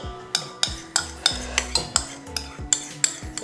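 Onion going into refined oil in a pan for cabbage masala, heard as a run of sharp metallic clinks and scrapes from a spoon against the pan, about a dozen quick strikes over a soft background sizzle.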